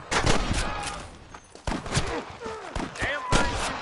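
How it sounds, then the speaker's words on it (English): Gunfire in Red Dead Redemption on PS4/PS5, a loud, irregular burst of overlapping rifle and pistol shots crackling in a shootout, with sharp cracks scattered across the whole stretch and a voice talking in between. "Damn fine shooting, boys."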